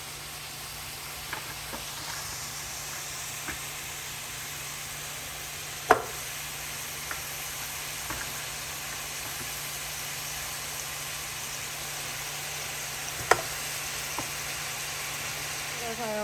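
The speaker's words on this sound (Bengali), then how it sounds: "নেড়ে নেড়ে মিক্স করে দাও একসাথে দেন" Qurbani meat sizzles in a cooking pot as it is stirred, a steady broad hiss with a few sharp scraping clicks from the stirring.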